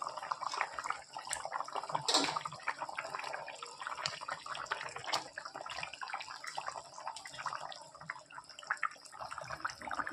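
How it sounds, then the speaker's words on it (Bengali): A pot of thin rohu fish curry with flat beans and potatoes bubbles steadily at a rolling boil, a busy watery simmer with small pops and gurgles throughout, fairly close and without any talk. "ঝোল প্রায় টকবক করে ফুটছে"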